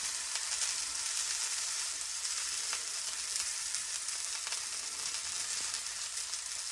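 A pork loin roast browning in extra virgin olive oil gives a constant, even hiss of sizzling grease with faint occasional pops, moderately quiet and steady throughout with no talking.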